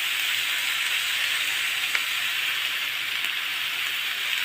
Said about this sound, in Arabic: طالما طلع الصوت اللي انتوا سامعينه ده يبقى السكر كده اتكرمل